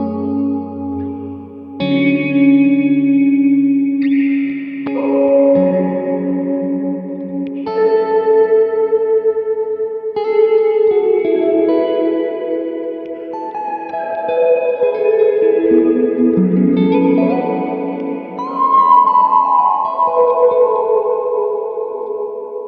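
Strymon BigSky MX reverb pedal on a random setting with the mix fully up, turning a played sequence of notes and chords into a loud, continuous wash of long reverb tails, echoes and chorus-like shimmer for over twenty seconds, with no talking.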